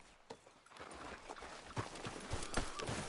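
Horse hooves clip-clop at a steady walking gait in Red Dead Redemption 2, moderately close and growing a little louder toward the end, with a soft background bed and no talk.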